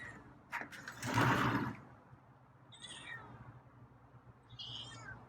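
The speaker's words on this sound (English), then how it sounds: "There's a meow." A feral cat gives a short meow at close range, followed by faint high chirps and a rustling burst in an otherwise quiet outdoor setting.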